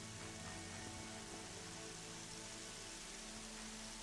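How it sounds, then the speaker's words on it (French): Steady in-game rain from Horizon Zero Dawn pours down evenly, a dense, continuous hiss with faint low rumbling tones beneath, no voices present. "On est sous la pluie, là."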